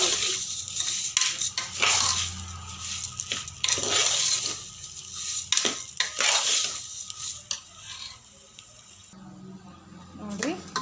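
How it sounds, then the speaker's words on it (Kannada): Rice frying in oil with onions for jeera rice, stirred with a utensil that scrapes and knocks against the pan in repeated bursts, soft sizzling between strokes and a person talking at times. "ಈ ರೀತಿಯಾಗಿ ಎಣ್ಣೆಯೊಳಗೆ ಅಕ್ಕಿಯೆಲ್ಲ ಫ್ರೈ ಆಗೈತಿ"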